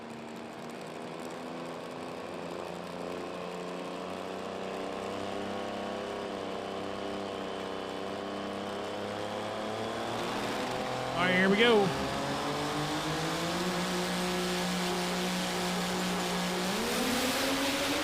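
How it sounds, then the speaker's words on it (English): A 632 cubic inch big block drag race car engine idles with a deep, steady rumble at a drag strip, then revs and climbs in pitch near the end, with a brief spoken line heard over the engine. "Maybe we're used to hearing these small blocks wind up, and she brought a big block to the battle right here."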